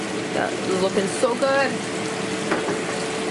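A mix of steak sauce and water is poured over beef steak cooking in a pan, setting off a loud bubbling sizzle as someone speaks.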